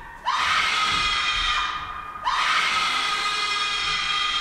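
Women cry out in a castle as a staged sound effect in Macbeth: two long, loud, high wailing shrieks, each starting abruptly and sustaining, one after the other.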